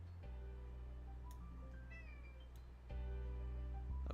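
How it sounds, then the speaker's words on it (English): A house cat meows several times indoors, with drawn-out, wavering calls over a steady low background hum and no speech. "what do you want? I don't know what my cat wants."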